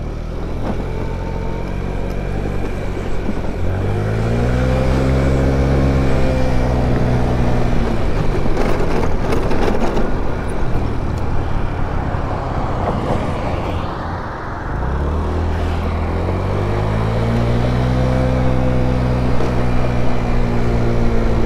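A GY6 50cc scooter engine while riding, loud and close, droning steadily then dipping as the bike slows near a red light before revving back up, with wind rush throughout.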